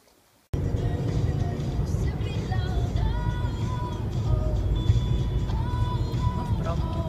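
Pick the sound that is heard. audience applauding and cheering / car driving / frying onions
car driving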